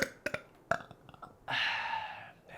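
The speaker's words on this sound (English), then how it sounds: "I burp a lot filming, but they'll never see this." A person lets out one long, loud, rasping burp that lasts nearly a second, after a few soft clicks and mouth noises.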